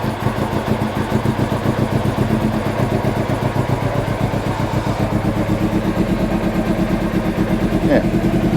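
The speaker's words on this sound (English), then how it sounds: "Try for a start and see how we get on." Triumph Sprint 900 motorcycle engine running on choke after a cold start, a steady, loud, rapid pulsing idle that stays even throughout, with a brief faint sound near the end.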